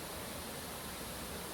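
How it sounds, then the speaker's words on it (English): A waterfall pours into a pool at Lekgalameetse Nature Reserve, a steady, even rush of water filling the whole moment without pause. "This is the famous waterfall."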